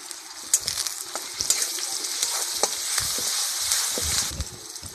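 Tomato tadka masala with salt and turmeric frying in a pan, a loud continuous sizzle broken by sharp spatula stirring knocks throughout.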